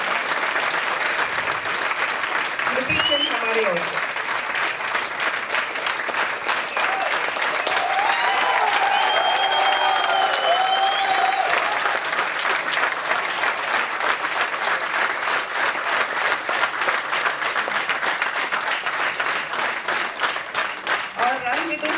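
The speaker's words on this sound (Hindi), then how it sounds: "फरीद के लिए तालियां" Theater audience at Bharat Bhavan in Bhopal applauds steadily for a long stretch, a dense sustained clapping that stays loud throughout, with a voice speaking briefly near the start.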